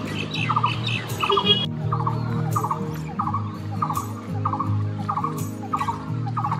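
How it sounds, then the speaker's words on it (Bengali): A large flock of pin-tailed green pigeons in hill forest gives repeated rhythmic squawking and gobbling calls that rise and fall in quick bursts, near and fairly loud, with a steady layered hum of other calls behind them. "এখানে আমরা একটা পিন টেইলড গ্রিন পিজিয়নের বড় ঝাঁক দেখতে পেয়েছি।"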